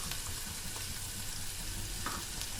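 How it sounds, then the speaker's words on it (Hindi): Soft, steady sizzle of ginger, garlic and ground spices frying in a pot, with faint stirring scrapes and small crackles and no talking. "इसे मैं भूनूंगी अच्छे तरीके से।"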